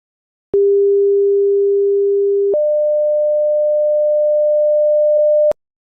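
Two steady pure sine tones in a row, alone and loud: a lower tone held for about two seconds, then a higher tone held for about three, each starting and stopping with a click, encoding depth-image distances as sound.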